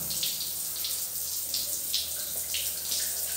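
Water running steadily from a motel shower in Mexico, a continuous hiss and splash close by with no talk.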